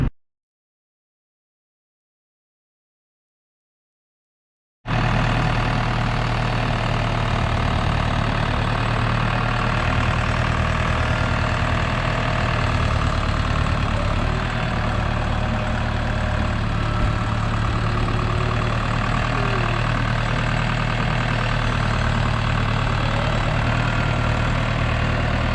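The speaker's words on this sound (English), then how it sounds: "And so we're gonna take the tractor down to the pond" A tractor engine idles and rumbles at a steady low drone, loud and close, after a few seconds of silence at the start, continuing evenly with no talk.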